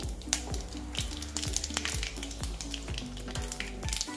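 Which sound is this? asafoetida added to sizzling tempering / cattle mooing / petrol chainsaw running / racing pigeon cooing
asafoetida added to sizzling tempering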